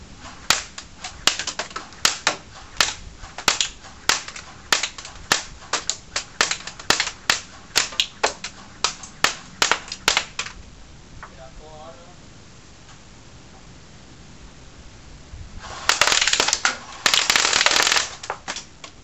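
A G&G M14 SOCOM airsoft rifle fires outdoors: sharp snapping shots in a loose string, a quiet pause, then a dense full-auto burst toward the end.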